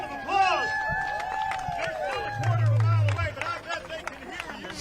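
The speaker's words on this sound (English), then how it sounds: "Let's give him a round of applause." An outdoor crowd cheers, shouts and applauds along the St. John's River in Jacksonville as a DeSantis boat flotilla parade approaches, with mixed voices and whoops, talk running through and a brief low horn.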